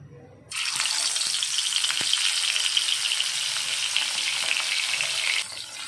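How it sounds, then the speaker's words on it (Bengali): Fish pieces drop into hot oil in a pan and fry with a loud, steady, dense sizzle and crackle that starts abruptly and continues throughout, close up and with no talking. "আমি এখন মাছগুলো ভেজে নিব।"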